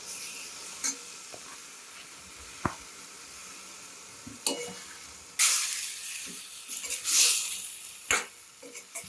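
Green onion and tomato curry stirred in a hot pan: soft sizzling under scattered scrapes and clinks of the spoon, with a louder burst of frying midway, faint and close.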